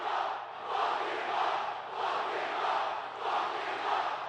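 A live independent wrestling crowd in Farmington, New Mexico, cheers and roars in rising and falling waves, loud and continuous, with several surges of shouting across the arena.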